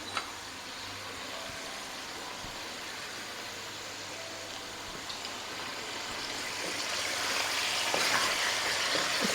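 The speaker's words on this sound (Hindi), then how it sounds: "अब मैंने सरसों के ऑयल में शुरू किया हुआ है खाना बनाना।" Mutton frying in mustard oil for a dhaba-style karahi makes a broad, continuous sizzling hiss that grows a little louder toward the end, heard alone without talk.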